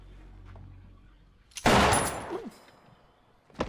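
Burst of movie gunfire from a film playing in a room, a loud dense volley lasting about a second with a few trailing bangs and echoes.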